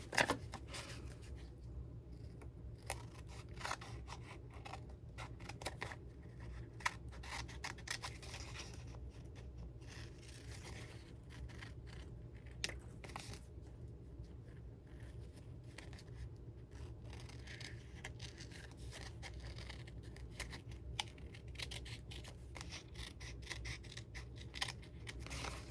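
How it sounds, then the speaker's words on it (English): Steady snipping of scissors through paper, repeated quick cuts over a low background hum, close and fairly quiet. "Here's my little scissors."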